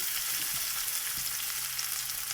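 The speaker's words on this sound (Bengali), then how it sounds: "এইগুলো সব আমি তেলের মধ্যে এক এক করে দিয়ে ভালো করে মশলাটা আমি কষিয়ে নিচ্ছি" Ginger-garlic paste, coriander leaves and tomato stir-fried in hot oil, making a continuous, fairly loud hiss-like sizzle with no voices.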